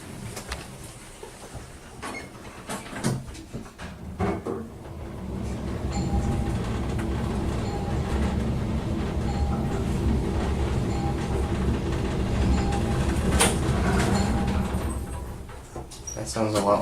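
Montgomery A-series elevator with a 3-speed door at a hotel in San Francisco, a continuous mechanical rumble that swells and holds through the middle, with clunks and bumps and some talk near the start.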